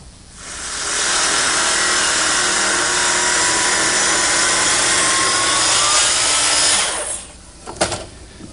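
A power tool whines loudly and steadily for about six seconds as it cuts a knife slot into a wooden cutting board in a woodworking shop, then winds down and stops, followed by a few faint knocks.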